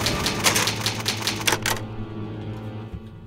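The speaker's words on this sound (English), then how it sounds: "First, go use an old typewriter." Rapid, crisp key strikes hammer on an old typewriter used to save in the Resident Evil HD Remaster video game, a dense clattering burst lasting under two seconds before it stops, leaving a low ambient hum.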